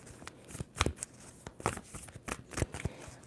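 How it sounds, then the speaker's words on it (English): Tarot cards being shuffled by hand in a series of quick papery riffles and slaps, several close, crisp bursts spaced unevenly over a few seconds with no talking. "2 more shuffles for Cancer."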